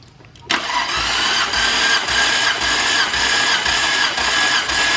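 A Nissan Skyline R34 GT-R engine cranks over steadily during a compression test, a rhythmic churning pulse repeating about twice a second, loud and close after a quiet start, with no voices.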